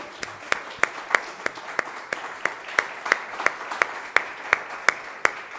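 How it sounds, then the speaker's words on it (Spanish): Audience clapping at a training session on co-responsibility and care: sharp, evenly spaced claps repeat in a steady rhythm over a faint room-noise bed, fairly close and distinct rather than a dense wash. "vamos a dar un aplauso a Roberto."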